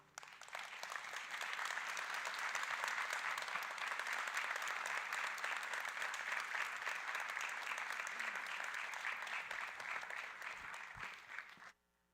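Sustained audience applause at a leadership forum, a dense, steady wash of clapping that swells in quickly, holds evenly for about ten seconds, then cuts off abruptly.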